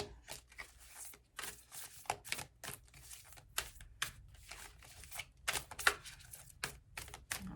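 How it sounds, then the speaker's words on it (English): A deck of tarot cards shuffled steadily and vigorously, a long run of crisp flicks and riffles, close and fairly quiet, with no talking. "Y'all just saw me shuffle that deck quite heavily"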